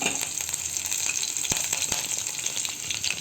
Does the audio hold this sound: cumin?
yes